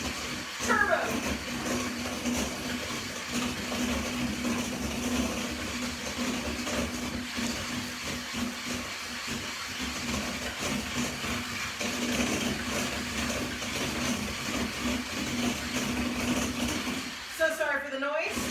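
Electric hand mixer whipping egg yolks for tiramisu at high turbo speed, a steady continuous whir running the full length with a brief break near the end.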